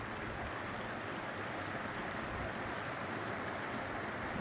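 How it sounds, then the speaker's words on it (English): A creek rushes through a big culvert at a crossing on Crown Point Road, producing a steady, dense broadband roar of flowing water, close and continuous with no voices. "we've stopped again at another creek crossing on the same road"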